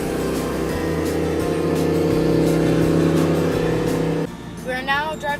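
A car driving home from Joshua Tree National Park, heard from inside as a loud, steady engine and road drone; near the end the drone drops away and a voice starts speaking.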